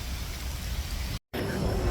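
Heavy rain pours down on a street in India, a dense, steady hiss that fills the air close by, broken by a very short cut before the downpour continues.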